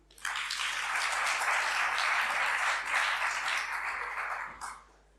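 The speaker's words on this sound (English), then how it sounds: "let's give Katie a big cheer for last session" An audience gives Katie a warm round of applause after the last session of a talk on forecasting the future of exhibition making, a steady sustained clapping that fades out near the end.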